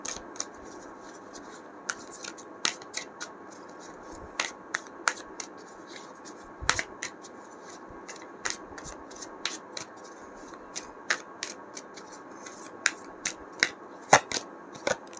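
Tarot cards being shuffled and drawn by hand, heard as a long run of crisp, irregular snaps and flicks over a faint, steady hiss, with no voice.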